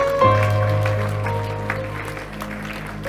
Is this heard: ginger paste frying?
no